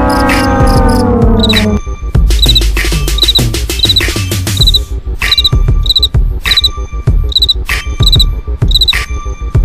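Cricket chirping sound effect during a game raffle, with bright, rapid chirp bursts repeating in a steady rhythm over loud, busy game sounds and clicks, following a short falling musical tone at the start.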